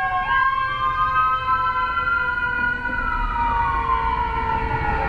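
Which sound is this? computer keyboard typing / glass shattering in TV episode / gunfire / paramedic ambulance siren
paramedic ambulance siren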